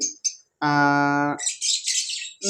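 A small cobalt-coloured pet bird calls up close, with short high chirps, one sustained buzzy harmonic squawk, then a run of rapid high twittering notes in otherwise quiet surroundings.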